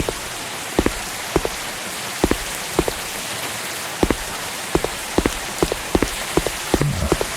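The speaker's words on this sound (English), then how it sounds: "Sounds like it's still raining in here." Video game rain: steady rain hisses in the background while heavier drops tap sharply at irregular intervals, close by.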